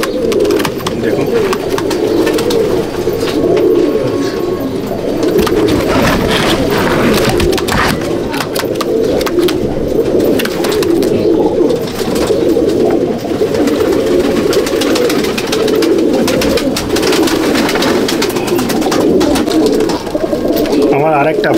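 Many pigeons in a loft, black-grained white birds among them, cooing continuously in a dense, loud, overlapping chorus that carries on without pause.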